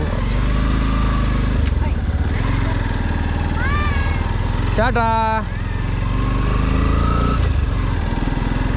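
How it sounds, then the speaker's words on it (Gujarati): A Yamaha FZ-X adventure motorcycle engine idles loudly and steadily up close, its low rumble continuous, with a short burst of voice partway through. "આ છે યામાહાની F Z x adventure bike"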